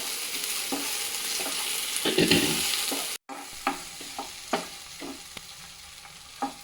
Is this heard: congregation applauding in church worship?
no